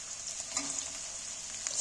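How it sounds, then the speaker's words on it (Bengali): Chopped onions frying in hot oil, a steady high hiss with faint scattered crackles, close and even, no voices. "তেলটার মধ্যে একটু নাড়াচাড়া করে এখানে আমি দিয়ে দিচ্ছি পেঁয়াজ কুচনা পেঁয়াজগুলো দিয়ে দিচ্ছি।"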